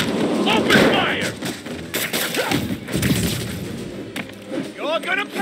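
Gunfire in the video game Marvel's Spider-Man Remastered, with thuds and bangs from shots rolling through a dense, noisy mix alongside raised voices of enemies shouting during a fight.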